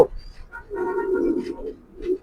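A young racing pigeon cooing up close, a soft throaty coo rising and falling twice in quick succession.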